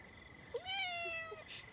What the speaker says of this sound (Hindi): हाँ, दूसरी बिल्ली।